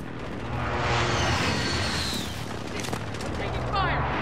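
Gunfire in Call of Duty: Modern Warfare, loud rattling bursts of automatic fire and sharp shots filling the scene, with a voice briefly audible amid the din.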